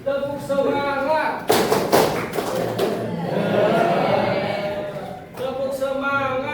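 A classroom group performs the 'tepuk semangat' clap pattern, a brief cluster of loud claps in the middle, framed by voices chanting and talking before and after.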